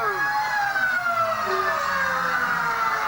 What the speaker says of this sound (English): the siren's about to go